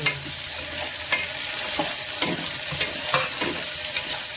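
Onions fry in a pan for dal biryani, with a steady sizzle under regular scraping stirs from a spatula, close and fairly loud, and no voices.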